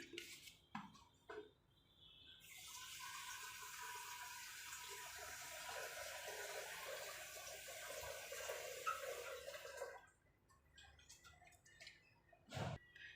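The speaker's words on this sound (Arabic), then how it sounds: "هجيب شويه ميه من الكاتل دافيه." Warm water poured from an electric kettle in a home kitchen while making a cake: a soft, steady trickling pour lasting several seconds, fairly faint, with a few small clinks before and after and no speech.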